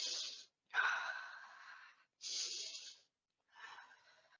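Someone demonstrates anxious breathing with four quick, close, breathy inhales and exhales separated by brief silences, each breath a rushing airy hiss, the last one softer.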